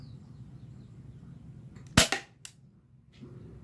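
A single sharp crack from a Tokyo Marui M92 spring airsoft pistol fired at about seven meters, close and loud over quiet room noise, followed by a faint tick of the pellet striking.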